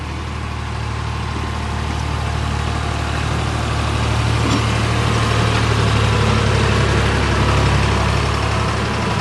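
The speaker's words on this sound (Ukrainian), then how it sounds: "Першими розгрібати сніг виїжджають трактори." Tractors out clearing snow on town streets at night: a steady, loud low engine rumble with a constant idling drone throughout, close by and alone, with no speech.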